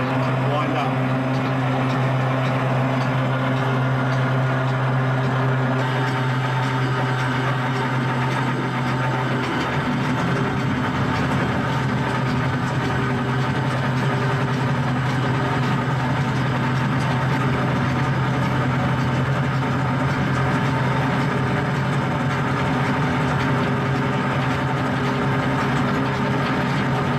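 An anchor windlass motor on a Surtees 5.8 GF boat hums steadily as it winds in anchor line, with a boat engine idling underneath and someone talking over the continuous drone.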